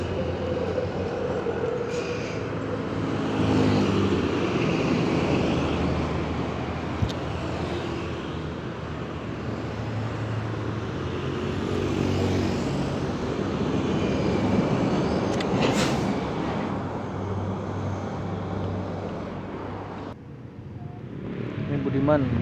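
A Budiman intercity bus rolls past on a road in the Selagedang area of Indonesia, a loud continuous engine rumble and road roar that swells and fades over about twenty seconds with faint voices underneath.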